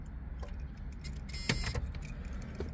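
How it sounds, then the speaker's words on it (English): The power antenna on a 1985 Chevrolet Camaro IROC-Z extends with a faint motor whir, set against a low idling rumble and a brief clack partway through. "Let's see if that power antenna did come up."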